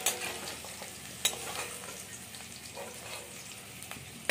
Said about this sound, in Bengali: আলুটা আমার ভাজা হয়ে গেল,